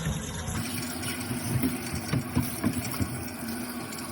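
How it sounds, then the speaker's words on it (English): A steady rush of cold tap water pours continuously over cooked pasta being rinsed, with a low mechanical hum and occasional soft clunks and splashes underneath. "I'm running it in cold water to avoid the overcooking"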